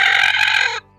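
A broody Aseel hen lets out a single loud, close cluck-like call that cuts off sharply after under a second.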